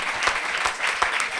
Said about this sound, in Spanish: el aplauso de las 8